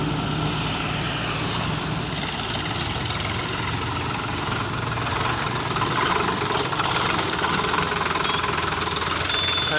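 A Sonalika 734 tractor's diesel engine runs steadily throughout, a continuous knocking chug with low rumble and vibration, fairly close and unbroken, with no voices over it.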